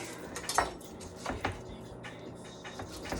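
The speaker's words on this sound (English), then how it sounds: "Slice out that lemon." A knife slices through a lemon on a cutting surface, giving a few sharp, close clicks and light scrapes at an uneven pace against a quiet background.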